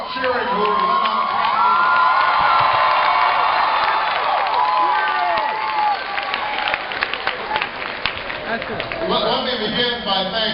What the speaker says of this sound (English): That must be all the students cheering who were let out.